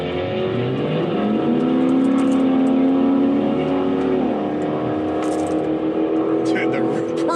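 Infiniti Q45 sedan launching in a burnout, a loud sustained engine roar with pitch rising, dipping and climbing again, heard from inside the car, plus faint tire noise.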